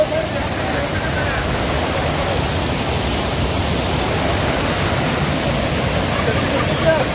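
A stream on the Nageshwar trek near Chiplun, Ratnagiri, gives a steady, loud, close rushing hiss of flowing water with no breaks.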